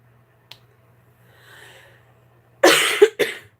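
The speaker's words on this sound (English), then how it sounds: "I'm trying not to cough too much." A person coughs in a short cluster of three hacking bursts near the end, after a faint snap and soft breathing in an otherwise quiet indoor setting.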